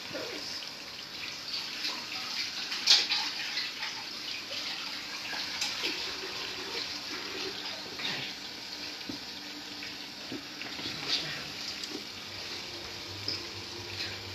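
Running kitchen tap water pours steadily over hands being washed during home cooking of curry and flatbreads, a continuous close splashing hiss with small irregular splashes and no talking.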